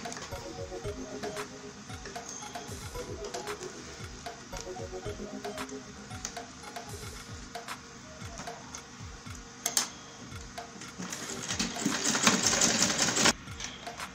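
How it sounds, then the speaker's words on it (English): A sewing machine stitches an Ankara fabric tote bag with a zipper, running steadily with a rapid mechanical ticking and swelling louder in a faster burst near the end. "Start sewing from under the zipper."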